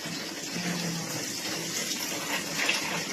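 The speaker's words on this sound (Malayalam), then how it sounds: "ടാപ്പ് കൊടുത്തിട്ട് വേണ്ട വെള്ളം ഒഴിക്കുക." Tap water pours steadily into a washing machine tub, a constant broadband rush that holds at an even level throughout without a break.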